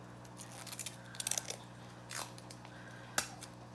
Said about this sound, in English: if you wanna be super exact, you can cut your tape